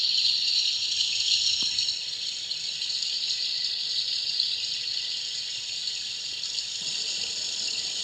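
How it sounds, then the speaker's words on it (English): A steady hissing gush of water pours continuously, bright and close, the sound effect of an O scale Broadway Limited model train water tender overflowing, with a faint click partway through and no voices. "Now you're hearing the water tender overflowing."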